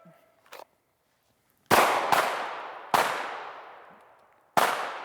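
Four loud pistol shots crack close by on an outdoor shooting range during a moving drill, uneven spacing, each with a long echoing tail, and a short faint metallic sound before them.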